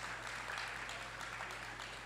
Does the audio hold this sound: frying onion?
no